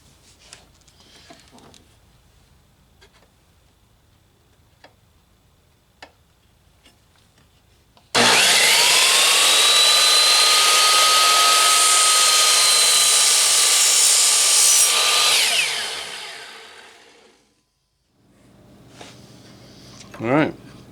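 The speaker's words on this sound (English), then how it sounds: "I've got carbide teeth on my blade on the chop saw, so there's no reason I shouldn't be able to cut this soft aluminum." Chop saw with a carbide-toothed blade cutting soft aluminum: after quiet scattered handling noises the blade roars in loud and close, whines steadily for about seven seconds, then winds down, with faint rustling afterward.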